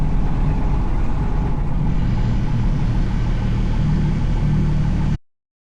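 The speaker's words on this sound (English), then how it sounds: "I hope you can hear that beautiful Jabiru 3300 sound. It's a 6-cylinder engine and I absolutely love it." Jabiru 3300 six-cylinder aircraft engine on a bush plane, running steadily while warming up, a loud, even low rumble with a strong, constant drone that cuts off abruptly at the end.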